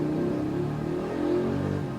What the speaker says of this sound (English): Car, I am trying to do a video. Why are you making so much noise?